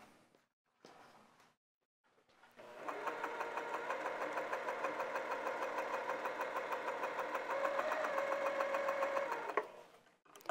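A sewing machine stitches flannel fabric in a steady, close, fast mechanical whir with rapid regular needle beats, running for several seconds after a couple of brief clicks and then stopping.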